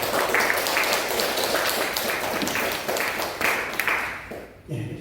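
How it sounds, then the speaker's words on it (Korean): Congregation applause during a certificate presentation at a Korean Presbyterian church service, a dense, steady wash of clapping for about four seconds that thins out and stops near the end, with some voices mixed in. "우리 박수 크게 하겠습니다."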